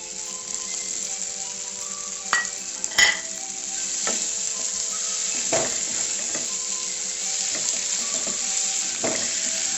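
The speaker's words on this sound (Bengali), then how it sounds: "এবার আমি মাছগুলো দিয়ে দিচ্ছি" Prawns fry in a pan for an unripe-jackfruit curry, a constant sizzle broken by repeated scraping and clinking of a spatula as they are stirred.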